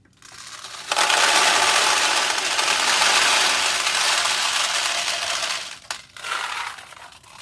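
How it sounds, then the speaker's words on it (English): Steel balls poured into a Nishijin Power Flash Thunderbird pachinko machine, a loud continuous metallic rattling cascade lasting several seconds, then tapering off with a few brief clinks and a final rattle. "there's no balls in the machine. So we'll add some balls to it."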